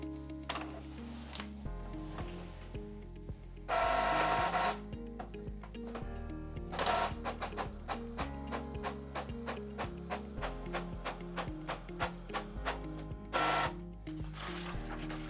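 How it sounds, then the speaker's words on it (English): An Epson EcoTank ET-3850 inkjet printer runs through a test page, with rhythmic ticking carriage passes, mechanical whirs and several louder bursts of feeding noise, close by. "And now we're gonna print a test page."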